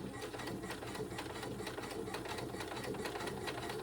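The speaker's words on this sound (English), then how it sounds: "I don't want it to fall down into my sewing machine, so I'm gonna go really, really slow." Sewing machine stitching slowly through bag fabric, a steady, quiet mechanical whirr with soft regular needle clicks, heard alone.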